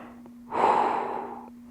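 One slow, audible breath drawn and released during a stick mobility stretch, soft and close, lasting about a second over a steady low hum.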